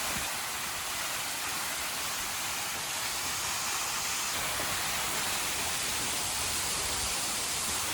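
Meeyan Ella waterfall in Sri Lanka pours in a steady, dense roar of rushing water that stays loud and unbroken throughout, with no voices heard over it.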